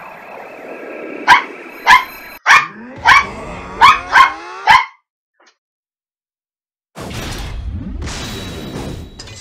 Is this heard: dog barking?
yes